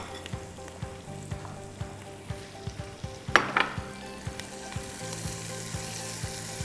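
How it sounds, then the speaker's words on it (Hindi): Onions fry in hot ghee with a soft, steady sizzle and crackle, spattering pops and occasional stirring clinks rising over the quiet background. "प्याज को हल्का फ्राई करना ज़रूरी है, ब्राउन करना ज़रूरी है।"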